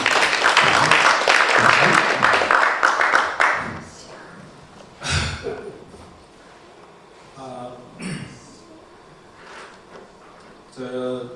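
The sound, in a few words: audience applause welcoming a speaker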